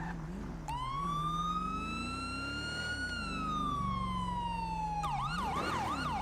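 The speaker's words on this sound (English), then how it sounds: "Oh man, I'm so not used to these sirens." A clean video game police siren wails up and down in long sweeps, then shifts to a faster yelping pattern, loud and continuous with no voices.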